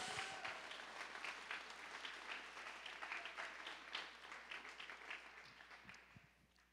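A church congregation claps for the Lord during a service, a dense, steady roar of applause that fills the room and tapers slightly toward the end, with no talking over it.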